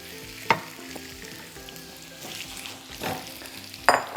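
Korean spicy stir-fried potatoes tossed with red chili powder in a pan: a moderate, continuous sizzle with intermittent clinks and scrapes of a spatula, no voices.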